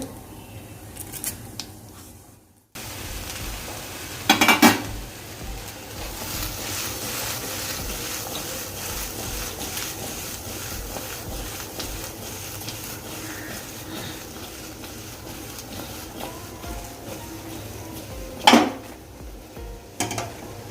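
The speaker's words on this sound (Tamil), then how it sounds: "இப்போ நம்ம சுண்டல் தாளிச்சிடலாம்." Mustard seeds and urad dal crackle and hiss steadily in hot oil, with a couple of sharp metallic clinks from a utensil against the pan.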